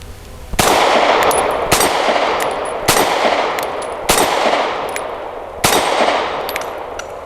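Grand Power P1 Ultra pistol firing Freedom Munitions rounds: five loud, sharp shots spaced roughly a second apart, each ringing briefly before the next, with no talking.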